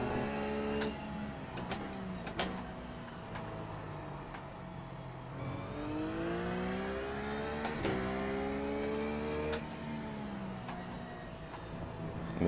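GT3 race car in iRacing at Brands Hatch, engine droning steadily and loud throughout, with pitch rising and falling through gear changes and a few sharp ticks over the top.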